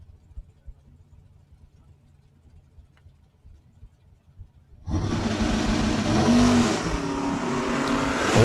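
An 89 Ford Probe and a 67 Chevelle launch side by side at a drag strip, a sudden loud roar that bursts out of near silence and holds steady at full throttle until the end.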